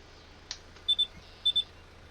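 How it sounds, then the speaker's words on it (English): Two quick double beeps from a modded survival video game as a vehicle begins refuelling at a pump: a faint click, then two crisp paired electronic bleeps spaced about half a second apart, in otherwise quiet surroundings. "That quick double beep lets us know that it is actually filling."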